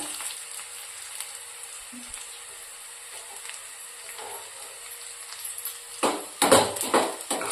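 Cumin seeds sizzle in hot oil in a pan while a tangy Telugu dish of tender tamarind leaves and amaranth greens cooks. A steady, fine crackle runs throughout, and louder bursts of stirring and scraping come near the end.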